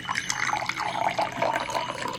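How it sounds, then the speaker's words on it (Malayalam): Drinking water is poured into a glass at a romantic dinner table, a soft continuous trickling and splashing close by, with no talk over it. "സോ ഒരു റൊമാൻറ്റിക് ആയിട്ട് അവൾക്ക് വെള്ളം സെർവ് ചെയ്ത് കൊടുക്കാം."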